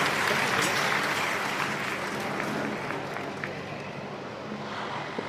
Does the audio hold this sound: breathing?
no